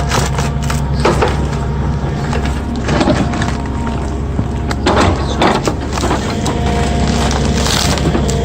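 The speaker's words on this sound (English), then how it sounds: "Dust rises, roots snap, and one more giant falls to the roar of hydraulics." Hydraulic tree-felling arm crushing and slicing through thick roots of a giant tree, producing continuous loud crunching, splintering wood cracks and a steady machine roar throughout, with sharper snaps breaking through now and then.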